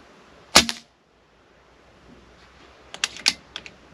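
A Snowpeak PR900W gen2 PCP air rifle in 4.5 mm, rated at 19 joules, fires pellets: one sharp, close crack early on, then after a quiet pause a quick cluster of lighter snapping clicks, with no talking.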